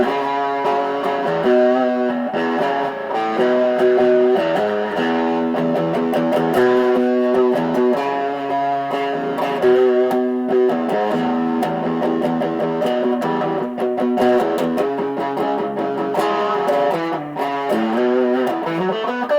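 An Aria Pro electric guitar with P90 pickups, run through a Tube Screamer overdrive pedal, plays a continuous melodic riff with heavily overdriven, sustained distorted notes, loud and steady throughout with no voices.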